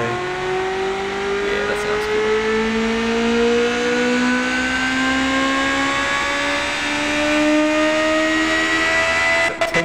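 A naturally aspirated 2.4-litre flat-plane V8 revs toward 10,000 RPM in the car-building game Automation, its loud, steady, high-pitched engine note rising smoothly and continuously, with a brief voice near the end.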